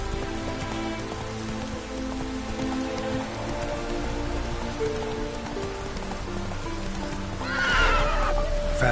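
Roach the horse in The Witcher 3 gives a loud whinny near the end over steady heavy rain, with clip-clopping hooves and a game soundtrack running throughout.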